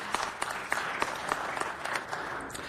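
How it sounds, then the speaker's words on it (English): Applause from an audience at a city council meeting: a short burst of steady clapping by a crowd, moderately near, without voices. "Let's give him a big round of applause."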